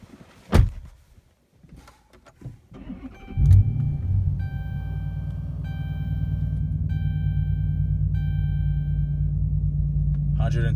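A 2013 Dodge Charger R/T with about 100K miles starts up after door and cabin noises, then settles into a loud, steady deep exhaust rumble close by, while faint chime tones ring over it.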